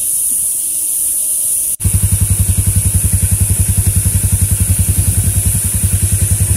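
An ATV engine running at a hill resort near Shimla, Kufri: after a brief quiet hiss, a close, loud idle kicks in with a steady rapid thumping pulse that continues evenly to the end.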